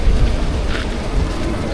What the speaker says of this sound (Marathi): अरे आला पाऊस आला परत मोठा आला रे पाऊस जोरदार आला एकदम जोरदार